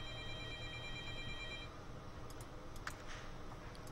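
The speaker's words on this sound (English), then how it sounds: "The phone's ringing." A telephone rings in the hidden-object game Fear For Sale: Phantom Tide, a steady trilling bell that stops partway through, followed by a few light mouse or keyboard clicks.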